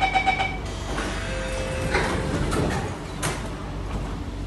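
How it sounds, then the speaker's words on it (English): Singapore MRT train doors slide shut after a short warning chime at the start, with a soft whoosh and a muffled thump inside the carriage over the steady hum of the train. "Doors are closing."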